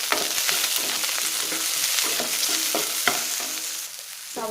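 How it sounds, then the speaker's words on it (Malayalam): Onion, curry leaves and dried red chillies sautéing in hot oil for a radish stir-fry, with a steady close sizzle broken by repeated scraping and stirring clatters of a spoon against the pan. "കറിവേപ്പിലയും വറ്റൽമുളകും സവാളയും ചേർത്ത് 1-2 മിനിറ്റ് നന്നായിട്ട് വഴറ്റാം"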